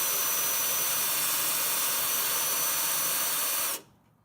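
A power drill fitted with a Harbor Freight bit bores through metal on a Jeep TJ tailgate, running as a steady, loud, high whine that cuts off abruptly near the end.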